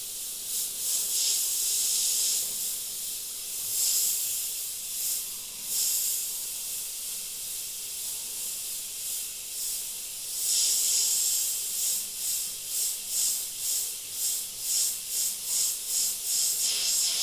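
An airbrush sprays paint in steady high hissing bursts while detailing an evil clown figure, with longer continuous passes and shorter pulsed sprays toward the end, close and alone without talk.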